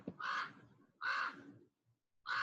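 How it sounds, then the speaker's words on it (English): A bird calling outside gives three loud, harsh crow-like caws at an even spacing, fairly close and alone, with brief silence between them. "The eagle has something to say."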